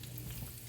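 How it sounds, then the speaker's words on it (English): Sausage frying in a pan while shrimp and grits are made, a steady close sizzle with faint crackle running evenly throughout, no voices. "I'm just going to go ahead and throw the sausage in"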